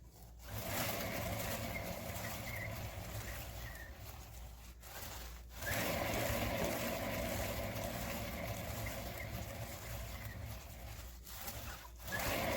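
An acrylic pour canvas turning on a paint spinner gives a steady whirring drone with a windy rush, running continuously and briefly dipping twice before resuming at full level.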